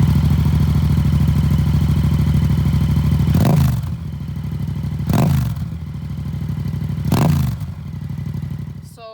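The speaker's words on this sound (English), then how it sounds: "I'm just going to start it up for you, just let it idle so you can hear it" A 2015 Yamaha MT07 motorcycle idles loudly and steadily nearby, its twin-cylinder engine throbbing evenly, with three sharp revs or blips breaking the idle.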